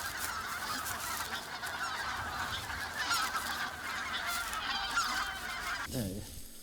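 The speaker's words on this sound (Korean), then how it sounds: "기러기 떼가 볏짚 사이를 누비며 낙곡을 찾아 먹는다." Wild geese in a winter flock call steadily over harvested rice paddies, a dense chorus of overlapping honks that ends with a brief lower thump near the close.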